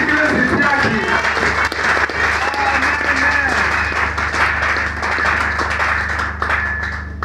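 Congregation at a Sunday church service in Benin applauding together, a dense, steady wash of clapping that holds for several seconds, with voices and a low hum mixed underneath.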